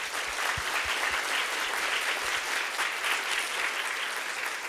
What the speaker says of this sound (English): Let's give Dr. Fong a round of applause.